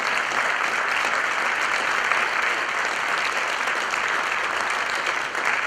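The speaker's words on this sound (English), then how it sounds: "Let's have one last round of applause for the new members of Wellsville High School's chapter." Steady, dense applause from a high school audience at a National Honor Society induction ceremony for new chapter members, sustained and even throughout with no pauses.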